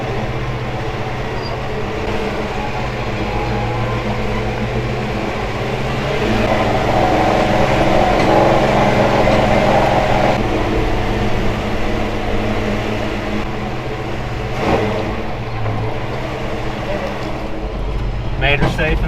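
A 1973 Chevy truck loaded with hauled wood creeps down a steep hill in four-low first gear, its engine a steady low rumble with drivetrain hum throughout, swelling slightly midway, with a voice speaking over it at times.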